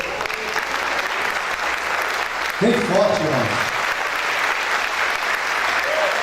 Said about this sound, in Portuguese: Quero pedir um aplauso para a minha esposa.